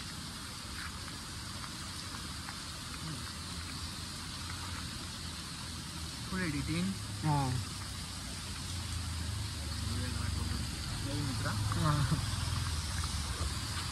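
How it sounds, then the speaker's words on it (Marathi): Steady monsoon rain during a trek on Harishchandragad in the Sahyadri hills, heard as a continuous loud wash of noise with voices talking over it. "घरून निघलोय ना, तिथून सतत पाऊस चालू आहे."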